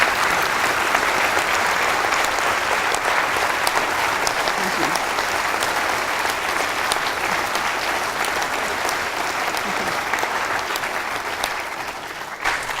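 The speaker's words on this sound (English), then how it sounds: "So can we please have a huge round of applause" Sustained applause from a seated audience at a public science talk about space, a thick, even roar of many hands clapping that carries on for over ten seconds before thinning slightly near the end.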